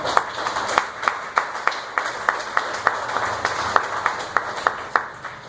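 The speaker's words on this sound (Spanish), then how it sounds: "Denle un aplauso al Rey de Reyes, por favor." A church congregation applauds with rhythmic, steady clapping, a regular beat of sharp claps over a bed of scattered hand claps that goes on for several seconds in a reverberant hall.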